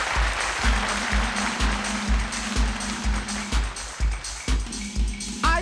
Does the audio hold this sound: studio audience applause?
yes